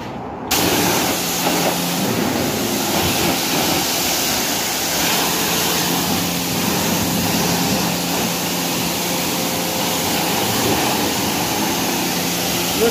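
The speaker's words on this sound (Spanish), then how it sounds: "ahora vamos con el enjuague, agua en alta presión" A high-pressure water rinse at a coin-operated car wash: a loud, continuous hissing spray that starts after a brief pause and holds steady throughout, with no talking.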